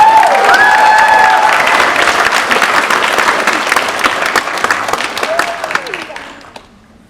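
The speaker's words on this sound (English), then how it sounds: "Please give a round of applause for Tia Harvey, contestant number 5." Audience at a college indigenous pageant gives sustained loud applause with some cheering for a contestant, steady dense clapping that thins and fades out toward the end, a voice briefly audible over it.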